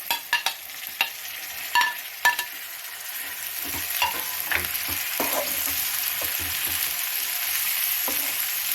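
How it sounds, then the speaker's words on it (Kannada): Bitter gourd pieces drop into hot oil with browned onions in a pan, a few sharp clacks of the spoon, then a steady close sizzle that builds and holds while being stirred. "ಈಗ ಹಾಗಲಕಾಯಿ ಹಾಕಿ ಫ್ರೈ ಮಾಡಬೇಕೀಗ."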